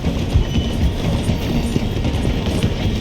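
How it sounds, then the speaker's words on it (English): A steam train in Red Dead Redemption 2 rolls slowly through a station, a loud, steady rumble with rhythmic wheel clatter and clanking close by, with no voices over it. "The train is slowing down to go through the station."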